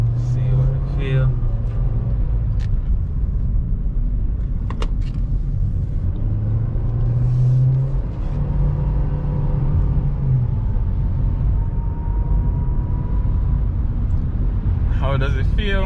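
Nissan Versa on a test drive, its steady engine and road rumble droning loud and continuous from inside the cabin, with the low engine note rising and falling slightly and occasional brief clicks.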